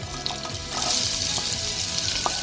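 Two medium onions, sliced, hitting a hot pan and frying with a dense, continuous sizzle that jumps louder partway through, with a few light stirring clinks.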